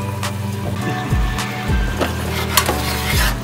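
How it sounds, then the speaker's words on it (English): Butter melting on medium heat with garlic and rosemary for salt potatoes, a loud close sizzle with a few clinks and low scraping thumps from the pan, no talk. "we're going to melt that butter down, let it go on medium heat"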